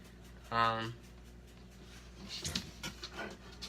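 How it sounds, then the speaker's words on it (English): A dog pants and whines somewhere behind the room while an isopod vivarium is being set up, giving one short harmonic whimper followed by breathy bursts, moderately close, under background noise and faint speech. "my dog's in the back making all the noise"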